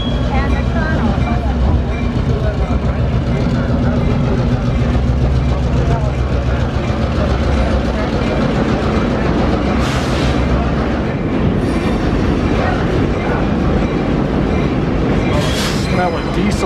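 Historic train rolling through a soot-blackened tunnel in Ely, Nevada, with a steady, loud low rumble and rattle of the cars throughout and a few brighter squeals late on; a voice talks over it.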